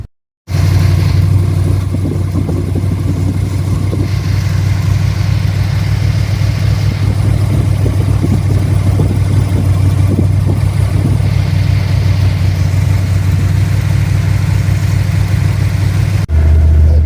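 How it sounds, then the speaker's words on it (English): An engine fitted with an Edelbrock 1405 carburetor, replacing a QFT, idles steadily as it warms up on partial choke, giving a constant low rumble for about sixteen seconds with no talking. "it is running and idling and warming up"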